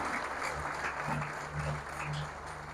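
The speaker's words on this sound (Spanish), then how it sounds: "Denle un aplauso al Señor." A church congregation applauds during a Spanish-language service, sustained clapping from a crowd heard at moderate distance, with a low steady hum underneath.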